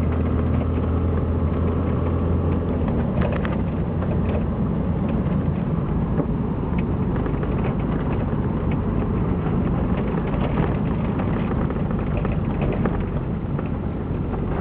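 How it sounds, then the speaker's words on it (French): A 1982 Pontiac Trans Am engine runs steadily with a dense mechanical rumble and clatter, loud and close throughout, with only modest swells rather than a distinct rev climb. "je ferai une petite accélération, vous verrez comment elle va monter dans les tours"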